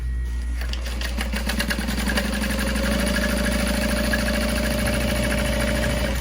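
A sewing machine runs steadily, stitching a seam with a small seam allowance on a Krystal Convertible Backpack, a continuous close mechanical whir with rapid needle rhythm and no talking.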